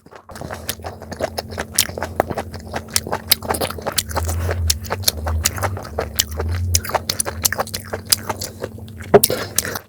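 Wet chewing and biting of spicy mala octopus with glass noodles and seafood, close and quiet, with frequent small sticky smacks and squishes in an irregular rhythm over a low background hum.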